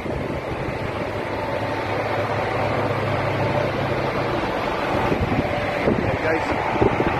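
Strong sea wind of about 50 knots in bad December weather on the way to Den Helder port, Netherlands. It makes a steady, loud roar and buffets the microphone without letup.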